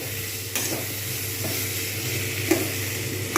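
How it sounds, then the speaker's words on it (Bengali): Vegetables fry in a pan for a Bengali spinach dish, giving a steady close sizzle with a low hum beneath and a few soft stirring knocks and clinks scattered through, no talking. "দেখতে পাচ্ছি সবজিগুলো খুব সুন্দর ভাজা হয়ে গেছে"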